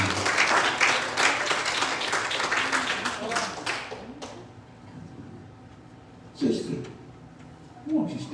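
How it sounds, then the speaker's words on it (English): A church congregation claps hands, dense applause for about four seconds that fades, followed by a couple of brief louder sounds. "Will you clap your hand in the Lord?"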